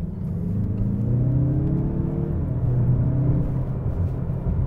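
A 2024 Mazda CX-30 Turbo pulls hard in second gear, its engine a steady, close drone that climbs gradually in pitch for nearly five seconds with no talking over it.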